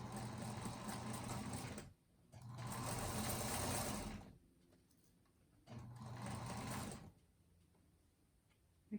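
A sewing machine slowly stitches a table runner over its seams, running in three steady whirring bursts separated by short pauses, close and loud, with no one talking.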